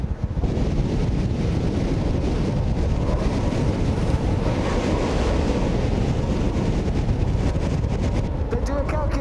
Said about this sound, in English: 65, maybe 70 miles an hour worth of wind.